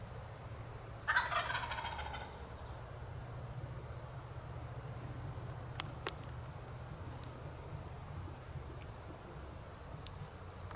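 A wild turkey gobbler lets out one loud rattling gobble during a South Carolina spring hunt, then it goes quiet apart from faint outdoor ambience and a couple of small clicks.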